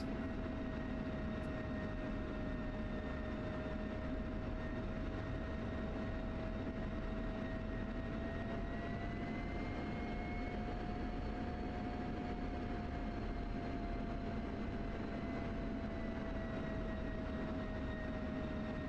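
Fixed-wing aircraft taxiing toward runway 33 for a northbound departure, a steady, droning engine hum with a faintly wavering whine held for the full length, close and even, no talking.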